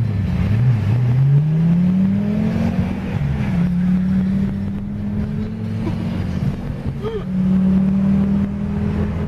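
A Lamborghini sports car's engine runs steadily from some distance away, its low droning note rising and holding, then easing off and swelling again across the stretch.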